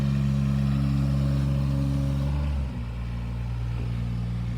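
A gutter installation machine drives off a lawn onto pavement at a commercial building site, its engine droning steadily and close, then the pitch drops as it shifts partway through, with no voices.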